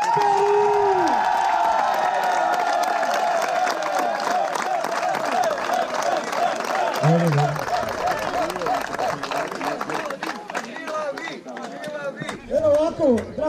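Applause and cheering from a crowd at a football club's championship celebration, greeting the team captain. The sustained, dense clapping runs throughout, with whoops and a voice speaking over it.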